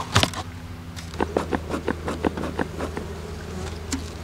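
A strong honeybee colony hums steadily in an open hive during a spring inspection, a close, continuous drone broken by sharp clicks and knocks as frames are handled.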